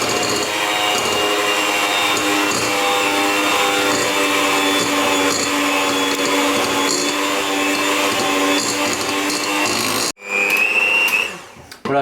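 Steady, loud whir of an electric mixer beating batter for a raspberry baba, droning for about ten seconds before cutting off abruptly, followed by a brief scraping clatter.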